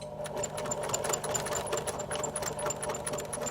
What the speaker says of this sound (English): I'm going to line my sewing machine up where the lining starts